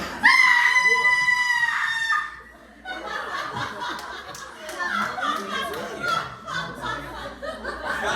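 A person lets out one loud, sustained high scream for about two seconds in a scream volume contest at a festival opening event, followed by crowd laughter and chatter.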